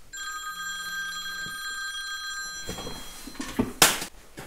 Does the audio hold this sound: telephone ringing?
yes